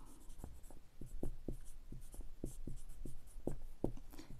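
Pen strokes scratch across paper in quick, uneven bursts, close and steady, while someone works out a Class 7 maths sum on a page.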